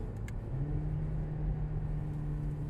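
A car in third gear on the Nordschleife gives a steady, low engine drone and road rumble from onboard, holding a constant tone throughout.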